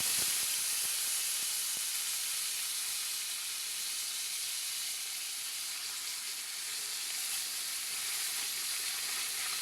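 Tilapia fries in hot oil with a steady, bright sizzle and hiss that runs unbroken and close, with no talking.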